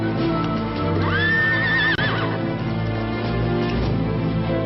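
Horses whinny loudly in a medieval Charlemagne-era setting, one long rising neigh standing out over a dense bed of hoofbeats and movement, close and continuous.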